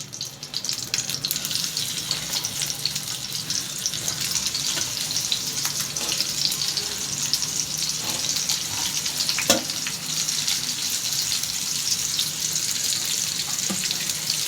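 Egg omelette frying in hot oil on a griddle, a dense, even crackling sizzle that stays steady and close from start to finish, with an occasional faint tap and no talking.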